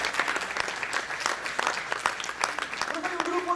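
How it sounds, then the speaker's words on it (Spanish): A church congregation applauds loudly and steadily during a sermon, dense clapping filling the space throughout, with scattered voices and a brief musical tone near the end. "Dale ese aplauso fuerte al Señor."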